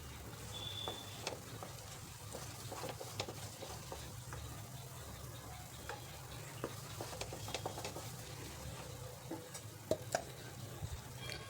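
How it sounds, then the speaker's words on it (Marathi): A thickening milk mixture for kesar peda stirred in a kadhai over low flame, a steady scraping and soft sizzle with irregular spoon knocks, close and continuous throughout. "तोपर्यंत ह्याला आपल्याला लो फ्लेमवरती हलवत राहायचं आहे"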